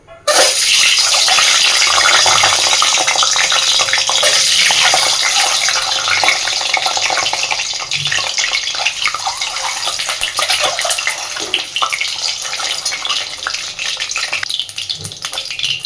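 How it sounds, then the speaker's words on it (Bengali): Double-yolk eggs frying in hot mustard oil make a loud, steady, close sizzle that runs throughout and eases slightly toward the end. "তেল গরম হয়ে গেছে, আমি প্রথমে ডিম দুটোকে সুন্দর করে একটু ভেজে নেব।"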